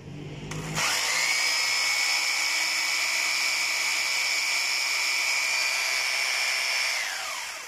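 An OKATZ 850W rotary hammer drill spins up after a brief knock and runs loud and steady for several seconds with a sustained high whine, then winds down at the end. No one speaks.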